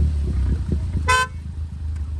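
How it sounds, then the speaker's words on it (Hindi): A single short car horn blast at a roadside drag race between two tuned cars, a Monster GT and a Laura stage 2+, cutting sharply over steady engine idle and background noise. "बल्कि मैंने ही हॉर्न मारे थे"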